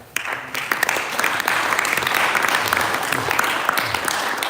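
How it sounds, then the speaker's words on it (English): A temple audience at a Sunday feast lecture in New York claps hands together, a dense, steady wash of clapping that holds evenly from start to finish. "Everyone clap your hands."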